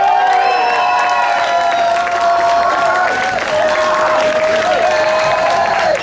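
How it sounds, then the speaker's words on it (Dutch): Loud crowd applause and cheering with whoops at a Ronde van Twente cycling race ceremony honouring the Dutch junior champion. Sustained clapping runs alongside bright tonal whistles or music throughout. "Geweldig applaus van jouw team Wilhelmus."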